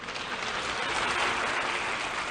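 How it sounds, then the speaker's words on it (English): Delegates applaud in the United Nations General Assembly Hall after the Central African Republic is admitted to membership, a steady, dense wash of clapping that fills the room evenly throughout. "With delegates applauding"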